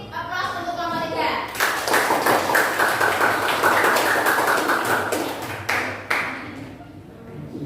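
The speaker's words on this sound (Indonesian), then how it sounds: "Beri aplaus untuk kelompok 3." A classroom of students applauds a student group after its presentation, a dense burst of clapping lasting several seconds, with children's voices before and around it.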